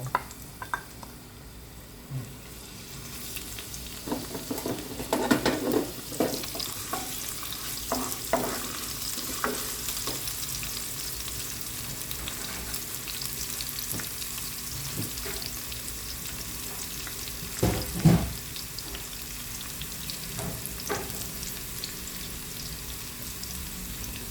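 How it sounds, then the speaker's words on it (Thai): Shallots and garlic sizzle and fry steadily in hot oil in a wok, a continuous crackling hiss with occasional stirring clinks and scrapes, close and fairly loud, with no talking. "พอน้ำมันร้อนนิดหน่อยเราใส่ หอมกระเทียมลงไปเจียว"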